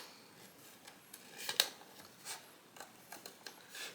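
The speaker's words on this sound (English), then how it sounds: "And then I'm going to get my detail scissors." Small detail scissors snipping around a traced paper craft shape, giving a few quiet, sparse clicks and short snips spread out over a few seconds, with no voices.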